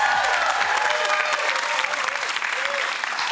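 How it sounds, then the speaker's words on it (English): Studio audience on the Family Feud game show applauding and clapping steadily, a dense, loud wash of hands that stays even throughout with some voices mixed in. "That was some happy clapping right there"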